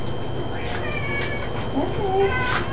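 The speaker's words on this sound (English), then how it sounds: "Marble, meow me." A house cat meows repeatedly at feeding time, several drawn-out, rising cries spaced over a few seconds, heard close and clear over a steady background hiss with a person's voice faintly present.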